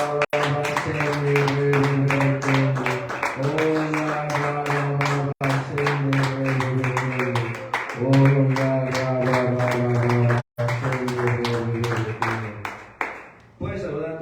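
Clapping from a church congregation at a Sunday evening service, dense broadband taps running steadily through most of the clip over sustained singing or organ-like tones, loud and close.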